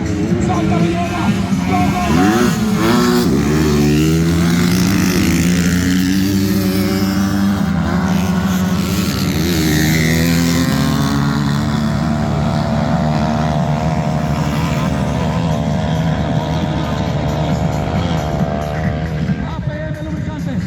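Motocross motorcycles racing on an MX2 circuit in Huancayo, Peru, a continuous loud snarl of engines rising and falling as bikes pass, under a race announcer's excited commentary throughout.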